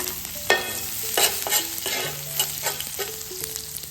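Garlic sautéing in oil for a pork dish from Albay, a close, continuous sizzle punctuated by repeated spatula scrapes and clanks against the pan at an uneven rhythm, with no talking.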